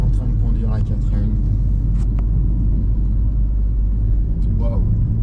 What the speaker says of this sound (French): Mon fils tranquillou, sur sa petite route de montagne, en train de conduire la 4L.